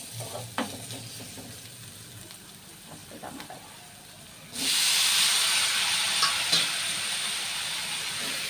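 Tomatoes drop into a hot pan for a chukka kura (sorrel leaf) curry: a sudden loud, steady sizzle and hiss starts midway and continues to the end, with only faint kitchen clatter before it and no talk.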